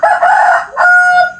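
A rooster crows close and loud in two long strained phrases, the second holding a steady pitch, with no other sound around it.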